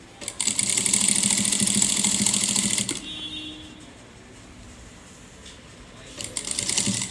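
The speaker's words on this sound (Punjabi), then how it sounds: "ਜਿੰਨੀ ਅਸੀਂ ਲੈਸ ਐਕਸਟਰਾ ਕੱਟੀ ਉਸ ਤੱਕ ਸਲਾਈ ਲਗਾਣੀ" A sewing machine runs in close, steady bursts while stitching invisible lace onto a garment, a loud rapid mechanical whir for a few seconds, a quiet pause, then the motor starting up again.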